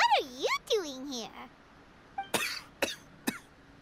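A Genshin Impact character coughs three sharp times in quick succession, close and clear, following a stretch of animated speech.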